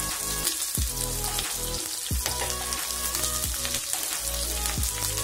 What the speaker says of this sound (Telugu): జీలకర్ర, ఆవాలు, ఈ దొండకాయలు వేసేయాలి.